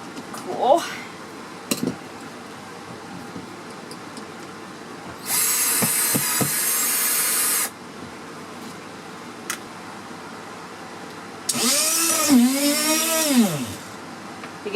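A power driver sends a screw through a wooden board during repair of a rotted corner on a 1974 Silver Streak trailer: two loud whirring bursts of a few seconds each, the second rising and falling in pitch, with clatter and a voice between.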